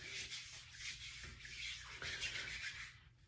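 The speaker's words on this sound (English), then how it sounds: "I'm gonna rub it into my palms to warm it up" Lotion rubbed between palms and onto skin, soft close-up swishing friction in repeated strokes, quiet and alone.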